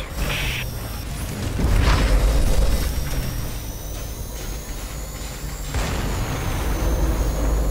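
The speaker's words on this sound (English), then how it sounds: "The orbital gun exploded because of intense firing." Frostbite orbital cannon in the X-Morph video game firing, then blowing apart in a deep rumbling boom that swells loud and settles into a sustained low roar, with a second heavy burst near the end.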